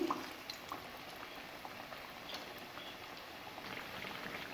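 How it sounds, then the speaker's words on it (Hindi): Potatoes frying in oil over a medium flame for pakora, a faint, even bubbling sizzle that holds steady with a small clink at the very start, no talk. "फ्लेम को मैंने मीडियम रखा हुआ है, मीडियम फ्लेम पे ही हम इनको भी फ्राई करेंगे।"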